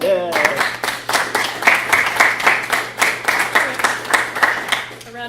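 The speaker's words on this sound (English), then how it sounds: "A round of applause for Ben, who didn't know he was going to be an active participant." Applause for Ben from a small group at a workplace talk, a brisk run of claps that rises and pulses for several seconds, with a voice briefly heard at the start and end.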